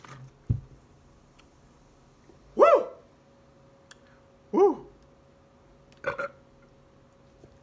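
Burps from someone who has just gulped a two-liter soda: three short, voiced belches spaced about two seconds apart, fairly loud and close, with a faint click early on.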